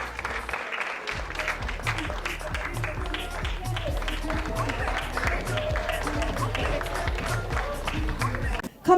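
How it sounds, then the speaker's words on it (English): An audience at a carnival costume design showcase claps steadily in a sustained round of applause, dense and continuous, with a few voices mixed in. "give her a round of applause, guys"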